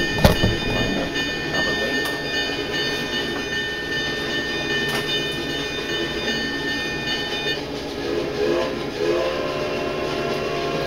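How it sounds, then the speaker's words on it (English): A double-headed model steam train heading toward a Durango scene chuffs and rumbles along the track while several long, steady steam whistle tones sound over it, sustained throughout. "And the train's double-headed"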